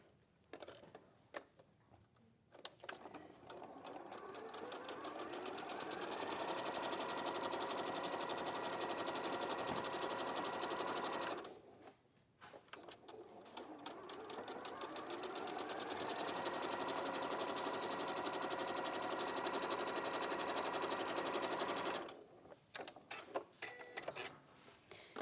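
A sewing machine runs fast along the edges of a tulip tote bag made of stretchy fabric, using normal thread, needle and foot. It gives two long steady buzzing runs with a brief pause between them, and soft clicks at the start and end.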